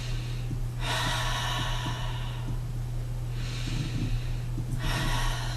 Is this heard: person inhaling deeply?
yes